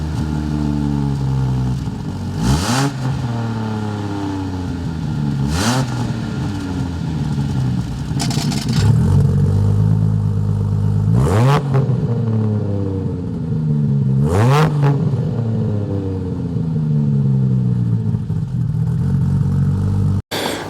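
A 1000 HP sequential Ford XR6 turbo with its remote exhaust cutout open revs loudly and repeatedly, five or six sharp sweeps up and back down over a deep idle, heard up close with no talk.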